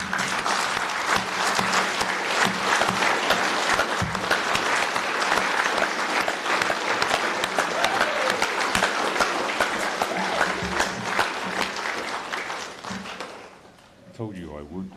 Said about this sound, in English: give a round of applause for my uso over here, for his life